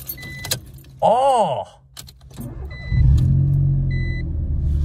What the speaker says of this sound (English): That's the first time the starter's failed and done that since I cleaned it.